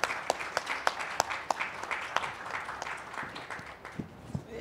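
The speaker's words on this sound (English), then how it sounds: "I think you deserve an applause for this." Scattered applause from a conference audience at a development leaders' dialogue, with sparse individual claps popping out sharply over a soft, continuous patter, moderately distant and fading slightly toward the end.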